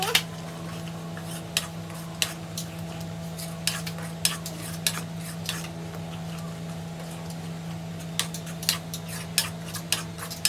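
Spoon stirring ground coriander-cumin powder and garam masala in a pan, a steady low simmer under repeated sharp scraping clicks of metal against the pan, near and moderately loud.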